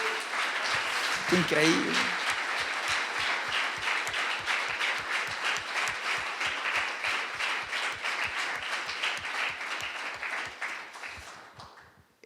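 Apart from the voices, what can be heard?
congregation applause during sermon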